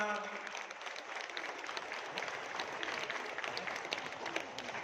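An audience at a housing developers' association anniversary and national work meeting applauds the Minister of Housing, a steady, dense wash of clapping that holds evenly throughout, with faint voices mixed in.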